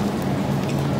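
Steady rain falling outdoors, a dense even patter with a low rumbling wash underneath, continuous and fairly close throughout.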